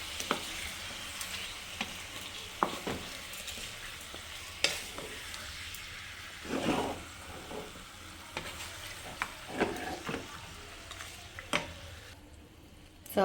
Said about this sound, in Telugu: సో బాగా ఒకసారి మిక్స్ చేసి మూత పెట్టేద్దాం